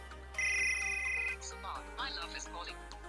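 A phone ringtone is played back as a test, bright electronic tones sounding close and clear, followed by a melodic music tone with a short run of notes.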